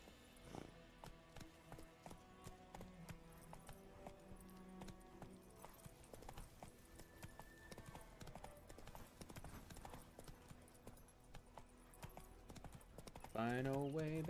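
Roach the horse trotting and galloping in The Witcher 3, rhythmic hoof clip-clop running steadily throughout under game music and a player's speech, with a horse whinny near the end.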